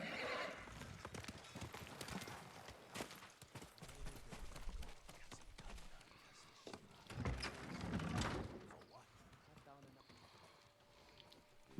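Horse hooves clip-clop steadily while a horse neighs in the video game Ghost of Tsushima, mixed with background game sounds and some talking over the top.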